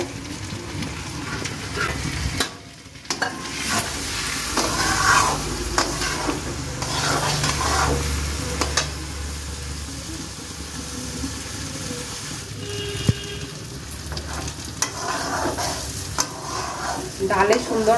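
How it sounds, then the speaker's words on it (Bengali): Washed dal dry-frying in a pot for khichdi, a continuous close sizzle with frequent scraping and clanking stirs against the metal and a low hum underneath, no voices. "গন্ধ বেরোনো পর্যন্ত এটাকে ভাজবো"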